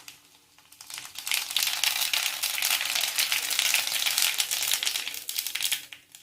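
Mustard seeds and urad dal hit hot oil for tempering, building from quiet into a loud, dense crackling sizzle that holds for several seconds before easing off.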